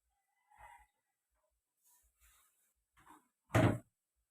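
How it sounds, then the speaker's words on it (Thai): Chickens about to be fed rice at a rural Thai home give a few scattered calls, ending in one louder, fuller squawk or crow-like cry near the end; otherwise quiet. "เดี๋ยวจะเอาข้าวไปให้ไก่ก่อน"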